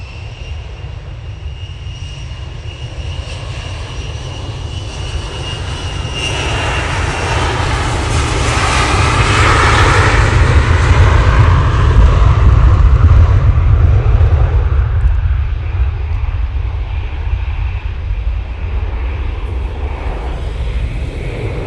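EasyJet airliner jet engines roar during the takeoff roll, a loud, broad rumble that swells to a peak midway and then eases slightly as the aircraft climbs away.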